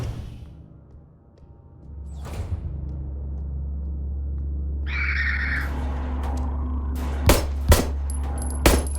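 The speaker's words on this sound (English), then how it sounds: "So I wasted the first shot there because I wasn't locked in yet" Gunshots in the survival horror game Signalis, a few sharp, loud cracks near the end over a low droning ambient hum, following a brief mechanical whirring sound.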